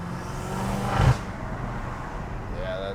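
A BMW M5 fitted with new aftermarket intakes revs once sharply near the one-second mark, a short loud swell over a steady road drone, then settles back to a continuous cruising hum.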